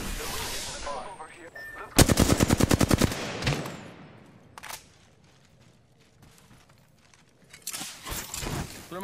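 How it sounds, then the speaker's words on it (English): Enemies open fire in a video game. A rapid, loud automatic burst cracks out in an even rhythm, then sporadic lone shots and rattles follow over a quieter stretch, and another flurry of fire arrives at the end. "The enemies are shooting at me."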